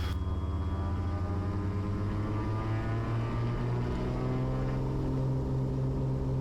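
Twin piston engines of a Beechcraft Baron power up for takeoff on runway 31, a loud steady droning roar with rising harmonic tones filling the cabin, heard alone without talk.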